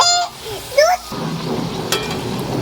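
Palm-fruit pitha deep-frying in hot oil gives a steady, close, crackling sizzle. A voice speaks briefly at the start, then the bubbling hiss carries on alone.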